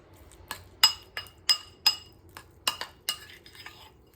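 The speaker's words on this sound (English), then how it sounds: "it's as easy as just stirring it around, getting it all mixed in together." Herbs being stirred into butter in a bowl, with a utensil clinking sharply against the sides. The taps come in an irregular run of about a dozen close, bright knocks over a quiet background.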